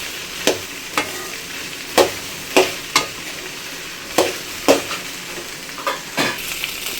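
Okra frying in a pan, a continuous soft sizzle punctuated by about a dozen sharp, evenly spaced scrapes and taps of a stirring spoon against the pan, close and clear with no talking.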